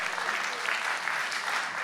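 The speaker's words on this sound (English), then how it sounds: "That's a round of applause right here." An audience at a 2026 team presentation breaks into applause, a dense, continuous wash of clapping and crowd noise at a steady, fairly loud level.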